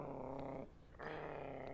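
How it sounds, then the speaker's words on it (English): A dog in the Cannibal Abduction video game gives low, rumbling growls in two close sustained bursts, broken by a brief pause. "Oh, it's the dog."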